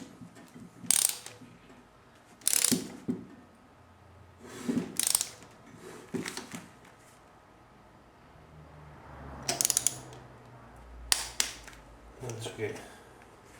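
Quick clicking bursts from a torque wrench ratcheting while tightening a fastener on a 350ep70gr build, heard close in separate short bursts spaced a second or more apart, with faint voices in the background.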